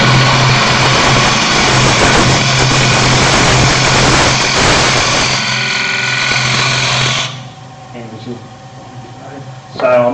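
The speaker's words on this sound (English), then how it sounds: "So here I'm rubbing the bevel, cutting quite a heavy cut with the bottom ring." A wood lathe spins a lidded box or bowl as a scraper makes a heavy push cut with the bevel rubbing, a loud steady whirring hum with cutting noise and someone talking throughout, then the machine winds down.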